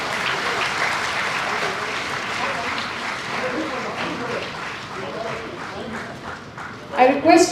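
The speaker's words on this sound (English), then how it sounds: "Ladies and gentlemen, please clap for them." Audience applause at the inauguration of an innovation and knowledge summit, steady clapping from a large crowd across the whole stretch, swelling louder near the end with a few raised voices mixed in.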